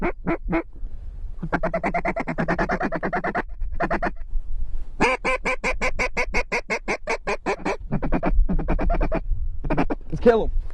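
Ducks quack in rapid, loud bursts during a Canada goose and mallard hunt, repeated raspy calls in quick series with short pauses between, up close, with hunters talking at moments.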